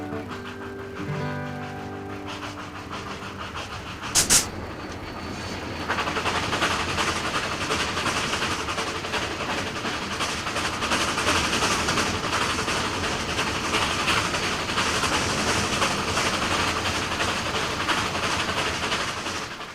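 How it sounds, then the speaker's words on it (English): Wheels of a steam-hauled passenger train clicking and rumbling along the rails near the Willamette River approaching Oregon City, a steady continuous rolling clatter heard from inside the cars, with a sharp brief knock early on. "The clicking of the wheels on the rail, the gentle pitching of the cars had a hypnotic effect"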